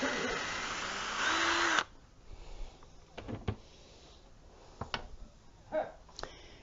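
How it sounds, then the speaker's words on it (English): A power drill bores a hole in picket fence wood, with a loud high whir for under two seconds that cuts off abruptly, followed by scattered clicks, knocks and handling noises at close range. "I guess maybe I should drill the hole first."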